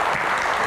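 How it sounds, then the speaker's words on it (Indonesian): A studio audience claps for guest Krisdayanti on the Q&A talk show, a short, dense burst of steady applause from many hands, fairly loud and close. "Tepuk tangannya lebih meriah dong"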